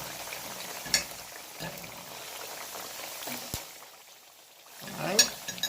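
Green plantain slices sizzle and bubble steadily in hot oil, a soft continuous frying hiss broken by a few clinks and scrapes as pieces are lifted out.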